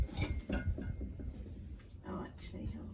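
A small fired ceramic bowl is lifted from a kiln after firing, giving several light clinks and knocks of glazed pottery close by, with a person speaking softly over the handling.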